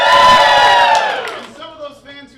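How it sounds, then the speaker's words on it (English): Live studio audience cheering and whooping loudly at a Super Showdown game event, a dense roar of many voices that swells then fades over a couple of seconds. "some of those fans who didn't want to cheer for either of those are going to cheer right now"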